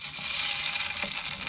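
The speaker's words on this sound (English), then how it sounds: "you can hear it sizzling" Fish fries in hot butter, giving a continuous close, crackling sizzle with small pops throughout and no talking.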